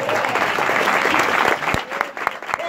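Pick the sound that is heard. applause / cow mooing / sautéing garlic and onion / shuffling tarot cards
applause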